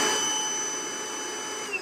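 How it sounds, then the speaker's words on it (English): A Milwaukee cordless wet/dry shop vacuum runs with a steady motor drone and a thin high whine, holding at even loudness nearby. "Sound-wise, it's no different than any other shop vac."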